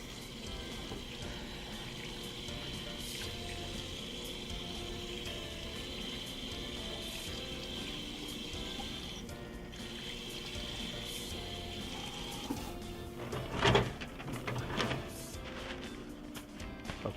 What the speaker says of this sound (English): I'm gonna wash my hands while he's finishing that last one.